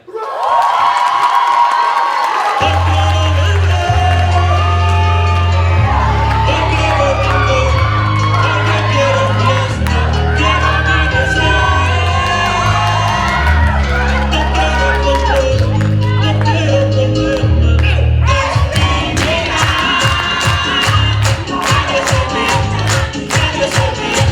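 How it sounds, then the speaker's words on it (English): Crowd cheering, whooping and shouting for a salsa dancer at a student Latino pageant, loud and sustained over booming Latin music with a steady bass beat throughout. "I want to hear a round of applause for this salsero here, the Mr. Suavemente"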